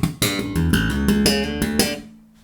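Slap bass guitar riff with slapped and popped octaves and slides, strong percussive plucked attacks over ringing low notes, played close and loud with no talking, the last note decaying out.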